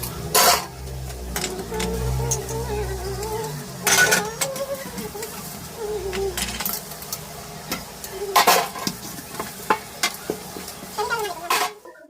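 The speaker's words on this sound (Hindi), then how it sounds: "हमने सोचा इतने लाओ हम चाउमीन बना लेते हैं" Chow mein noodles being stir-fried in a home kitchen pan: repeated loud metallic scrapes and clanks of a spatula against the pan over a steady sizzle, with sharp strikes at intervals and a rumbling low hum beneath.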